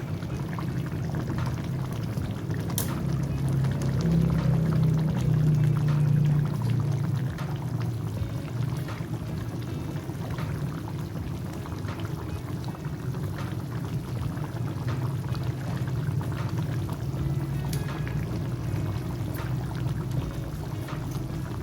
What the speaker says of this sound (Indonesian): tuang santan